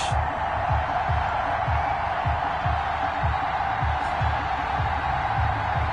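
A stadium crowd in an American football video game, Bengals against Steelers, roars as a dense, steady wash of cheering with repeated low rhythmic thumps underneath, continuous throughout.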